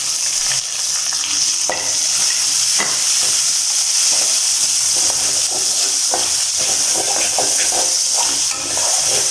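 Onion frying in a pan for a Tamil-style vegetarian masala macaroni, with green chilli paste in the oil: a loud, steady hiss with stirring scrapes and small crackles, no voices.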